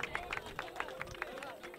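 Spectators at a bullock cart race clap in a quick, faint, irregular patter, the claps sounding from a distance beneath crowd murmur and talking.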